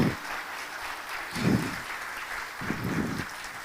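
Scattered audience applause at an international conference on crimes affecting children, swelling in two or three soft bursts of clapping heard from a distance.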